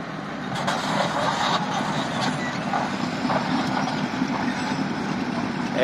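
A truck being driven around a sugarcane yard, with a dense, steady engine rumble and clatter holding close throughout, mixed with faint background voices.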